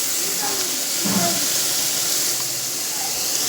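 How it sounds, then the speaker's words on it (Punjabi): Chopped onions fry in a pan and are stirred with a ladle while cooking poha, giving a steady broad sizzle that holds evenly throughout with a faint scrape near the start. "ਹਾਂਜੀ ਆਪਣੇ ਪਿਆਜ਼ ਫਰਾਈ ਹੋ ਰਹੇ ਆ"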